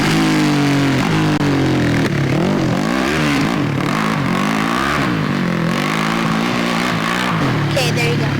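A motorcycle engine in Montana revs hard and continuously at close range, the pitch rising and falling through repeated throttle blips, with voices talking over it.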